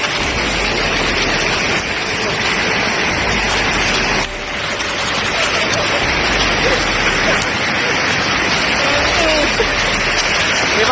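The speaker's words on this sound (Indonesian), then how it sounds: "Hujan es di Bandung." Dense, steady hail and heavy rain hammer down hard and loud during a storm in Bandung, with brief shifts in intensity but no letup.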